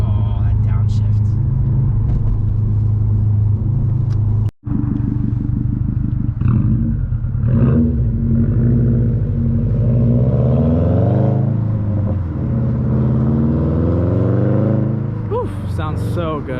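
A Subaru STI with all-wheel drive revs hard and drops a gear, its engine rumble rising and falling in loud, close sweeps over about sixteen seconds, with a brief cut midway and people talking over it.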